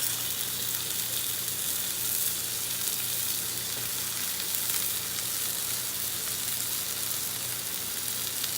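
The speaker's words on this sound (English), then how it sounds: "See how it sizzles? That's what you want." Loud, steady sizzling of venison steak frying in a hot pan, a continuous crackling hiss with no talking.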